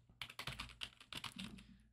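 Rapid keystrokes on a computer keyboard, a quick irregular run of soft, close clicks at low volume with no voices.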